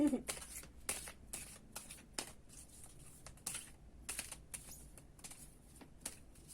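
Quiet riffling and snapping of glossy tarot cards being shuffled, a series of crisp bursts spaced by short pauses, close and soft.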